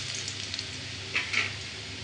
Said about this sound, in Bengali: রসুন কুচি, একটু নেড়ে চেড়ে বাদামি কালার করে নেব